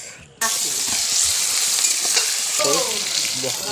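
Village chicken pieces sizzle and spatter steadily in a hot wok, a loud continuous frying hiss that starts abruptly and stays even throughout.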